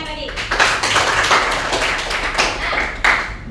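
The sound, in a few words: clapping for a classmate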